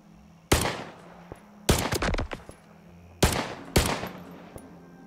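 Gunfire in the video game Stalker 2, in four sharp loud bursts, each a few rapid shots with a ringing tail, separated by short quiet gaps, with no talking.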